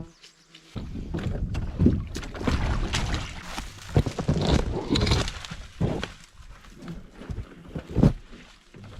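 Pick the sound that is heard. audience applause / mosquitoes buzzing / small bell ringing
mosquitoes buzzing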